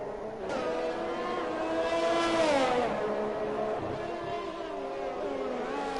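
Race car engines whine and rev in a continuous, loud drone during a Formula 1 video game race at Singapore, with a rising and falling pitch as cars pass, under a commentator's voice.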